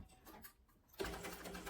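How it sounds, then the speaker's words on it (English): A sewing machine stitches water-resistant canvas and lining for a travel sling bag. After a quiet second it starts a steady, close mechanical whir that runs to the end. "we're going to sew that one in place right over those same stitches"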